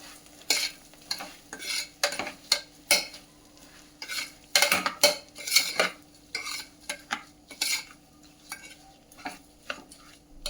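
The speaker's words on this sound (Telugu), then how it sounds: "బియ్యపు రవ్వని వేసుకోవాలి. వేసి ఒక్కసారి కలిపేద్దామండి." Rice semolina is stirred into an oil tempering in a pan for upma, a spoon scraping and clinking against the metal in repeated irregular strokes, close and clear, with no talking.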